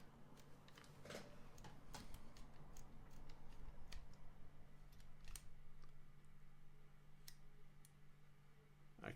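Loading mechanism of a Leica film camera gives a series of small, quiet mechanical clicks and ticks close by, over a steady low hum, with no talking.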